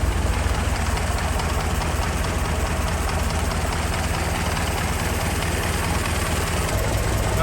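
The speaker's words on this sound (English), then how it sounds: "Idle's great. Look at this idle." A 1914 Ford Model T Speedster engine idles with a steady, loud, rough low rumble that holds evenly throughout, recorded up close.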